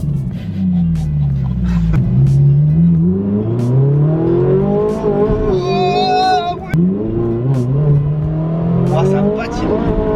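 Ferrari engine revving hard with wheels spinning, a loud close engine note rising and falling in pitch in repeated sweeps, with people talking underneath.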